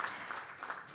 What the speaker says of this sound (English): So a huge round of applause to everybody who's sitting right over here